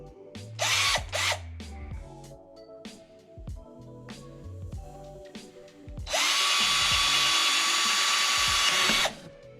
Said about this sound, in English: We're gonna drill through this.